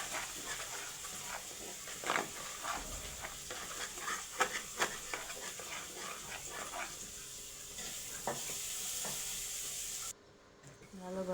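A spoon stirs turmeric, chili powder and ginger-garlic paste in a hot pan, with steady sizzling and frying hiss broken by scraping and clicking strokes, fairly quiet.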